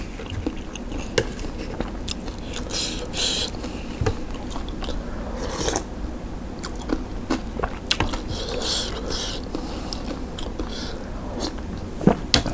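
Crispy fried vegetarian taro being bitten and chewed up close, a steady run of crunchy, wet mouth sounds with sharper bites spread through and no talking.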